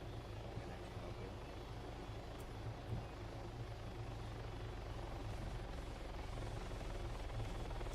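Two helicopters in a video game approach the player, a steady rotor drone and low rumble holding throughout at moderate level, with faint chatter in the background.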